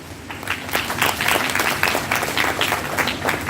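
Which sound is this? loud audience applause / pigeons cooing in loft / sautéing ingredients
loud audience applause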